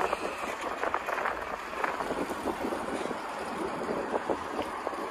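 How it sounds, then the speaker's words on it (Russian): Steady wind rushing and buffeting against the microphone, a constant roar with gusty bursts, no voices. "Ветер, конечно, сильный в эту сторону."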